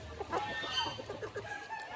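Several upgraded native chickens cluck in short, overlapping bursts nearby, with a steady low background hum throughout.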